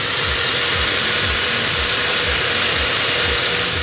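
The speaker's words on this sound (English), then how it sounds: "Now, bring the saw into position, make sure that the base is against the 90 degree guide edge," A power saw guided by a Kreg Portable Crosscut makes a short cut into a board, a loud, close, steady whining roar that holds at full strength throughout, with no voices.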